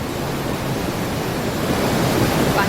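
Swollen Reva river in Jhalawar, Rajasthan, in flood after heavy rain, two streams pouring down from above; a loud, steady broadband roar of rushing water fills the whole stretch with no break.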